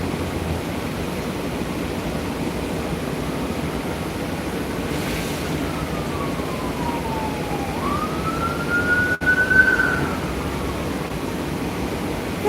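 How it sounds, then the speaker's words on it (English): A siren wails in the distance, its pitch sliding down then rising again, over a steady roar of wind or surf. "I hate those sirens."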